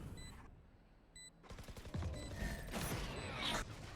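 Gunfire in a Valorant pro match, DRX versus ONS at Challengers Korea playoffs, including a wall-bang kill: loud crackling bursts of shots and game effects build after a quiet start, with brief tonal beeps early on.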